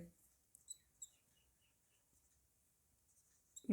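A pen scratches on paper during a maths lesson, faint, brief strokes and squeaks separated by quiet pauses, close and soft.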